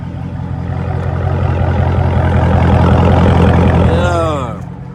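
Straight-piped 2020 Dodge Charger Scat Pack exhaust rumbling loud and deep at close range with a heavy low drone, fading away near the end as a voice cuts in briefly.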